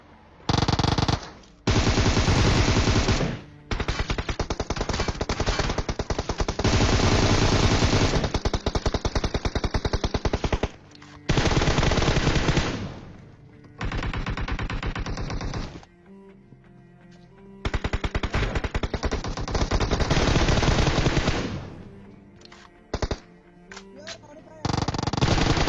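Gunfire in the mobile battle-royale game PUBG Mobile during a one-versus-six fight in Pochinki: long loud bursts of rapid automatic fire, repeated many times with short gaps between them.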